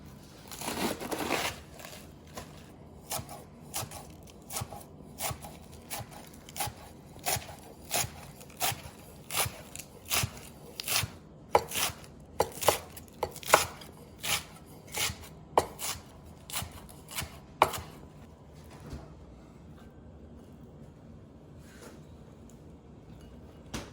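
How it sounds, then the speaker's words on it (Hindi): A knife chops lettuce into thin slices on a board, a series of sharp, evenly spaced close cuts over about twenty seconds before falling quiet. "तो आखिरी चीज हम लोग जो काटेंगे ये है लेटस। तो इसको आप हमने लाइक छोटे छोटे थिन स्लाइसेस में काटने हैं।"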